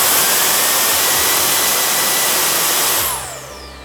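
A Milwaukee M18 brushless precision blower (0887-20) roars loud and close at speed 3 with no nozzle, a steady broadband whoosh that winds down with a falling whine near the end.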